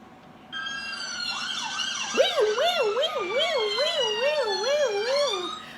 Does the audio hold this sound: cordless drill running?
no